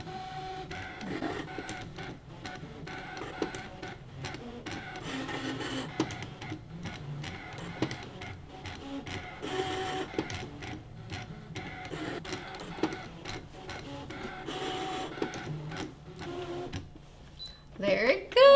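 A Brother ScanNCut machine cuts through quilted fabric with steady mechanical whirring, ticking and clicking as the blade carriage moves back and forth, close and continuous, with a person talking over it.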